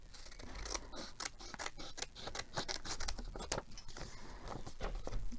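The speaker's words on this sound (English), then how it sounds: "So I'll just try and do it with these big bodgy scissors because these are good for the larger parts." Large scissors cutting paper close up, a series of irregular crisp snips and rustles over a noisy room background, no talking.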